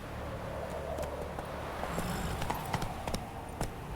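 Hoofbeats of Roach, Geralt's horse in The Witcher 3: Wild Hunt, clopping in a steady irregular rhythm over a low ambient game backdrop, moderately close and clear with no talk.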